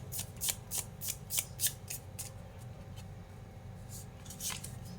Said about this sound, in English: I'm going to draw three cards.